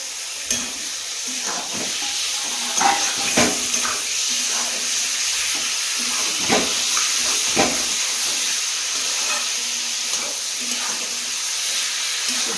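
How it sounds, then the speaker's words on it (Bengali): Marinated chicken frying in spiced oil with Kashmiri chili, a steady loud sizzle and hiss broken by sharper crackles and stirring clatter, continuing for the whole stretch with almost no talk. "এবার ম্যারিনেট করা মাংসটা দিয়ে দেবো।"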